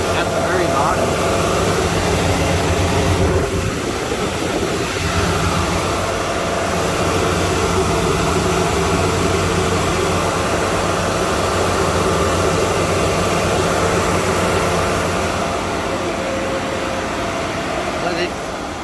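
ASIC crypto mining rigs run in an enclosure built to contain noise and heat. Their cooling fans give off a loud, constant whooshing whir with a steady hum underneath that barely changes throughout.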